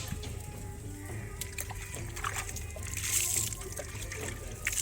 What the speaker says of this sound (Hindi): ये देखिए पानी,